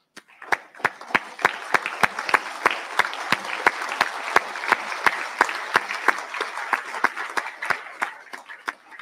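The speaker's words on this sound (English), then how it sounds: "please stand and give our graduates a round of applause" Sustained applause from a standing audience of families and friends at a university graduation ceremony, many hands clapping steadily and densely for about nine seconds with no speech over it.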